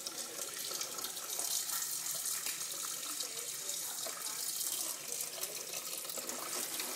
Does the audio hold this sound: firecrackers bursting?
no